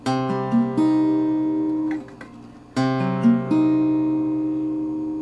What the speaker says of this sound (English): to go from the minor 7 to the diminished sounds like this